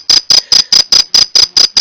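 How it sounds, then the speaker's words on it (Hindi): A cricket chirps loudly and close by in eight evenly spaced bursts of shrill pulses, a quick regular rhythm with nothing else heard. "इसको झींगुर भी कहते हैं, यानी झी झी की तेज ध्वनि करने वाला"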